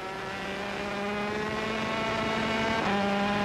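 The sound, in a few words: 250cc Grand Prix racing motorcycle revving over the finish line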